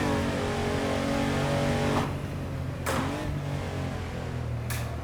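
A Porsche 993 with all-wheel drive in the racing sim Assetto Corsa, its engine pulling hard and climbing in pitch before quick gear changes. The note holds loud and close throughout, with no voices over it.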